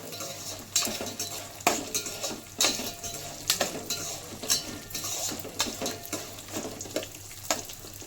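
Mustard seeds, chana dal and other tempering seeds sizzle in a pan for lemon pulihora while a utensil scrapes and clinks against the metal in repeated stirring strokes over a steady fry, close and fairly loud, with no talking.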